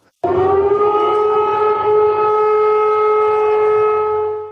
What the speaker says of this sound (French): des sirènes hurlantes et des alertes aériennes retentissent avec force dans l'ensemble de la ville de Moscou